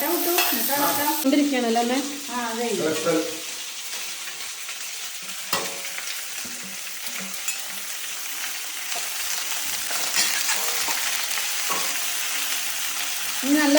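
Food sautéing in a pan in a home kitchen, with a steady sizzle and scraping stirring strokes; a voice is heard briefly at the start before the frying and stirring continue alone.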